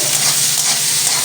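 Potato pieces being stirred in hot frying oil, a loud, dense, continuous sizzle close up with scraping movement and no voices.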